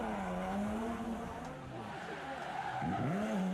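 A drifting car squeals its tires in long sliding wails over a constant loud engine roar, with the pitch of the screech bending as the slide shifts.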